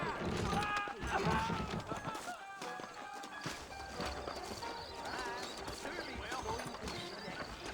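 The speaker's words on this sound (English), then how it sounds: "I got the horses saddled up and ready out front" Horses gallop in Red Dead Redemption, hooves clip-clopping in a quick rhythm with an occasional whinny, set under game music and someone talking.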